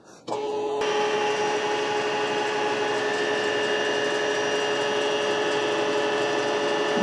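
A milling machine table is fed down by hand in a metal shop, starting after a brief quiet moment with a sudden steady mechanical whine and hum that holds evenly until the end, no voices present.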